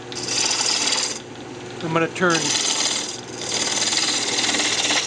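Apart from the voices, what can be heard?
wood being turned on a lathe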